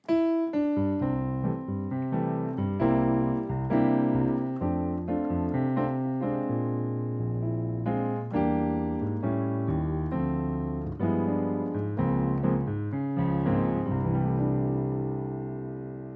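Piano plays a 3-6-2-5-1 chord turnaround that cycles back home, full and resonant, ending on a ringing held chord with no talking.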